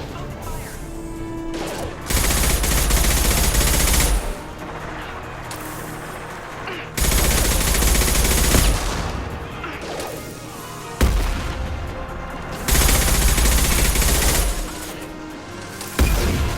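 Heavy weapon fire in the shooter game Mass Effect 2 arrives in loud, crashing bursts a few seconds long, separated by quieter stretches with talk in between.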